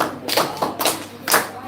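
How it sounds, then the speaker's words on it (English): A few scattered hand claps at a Purim gathering, sparse and uneven beats rather than full applause, close by and fairly loud in a quiet room. "Give her a round of applause."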